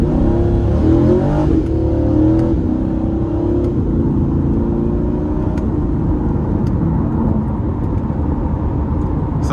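A Chevrolet Corvette Stingray 1LT coupe with a 6.7 engine accelerates up an interstate on-ramp, a loud, steady engine roar from inside the cabin with rising gear tones and road noise.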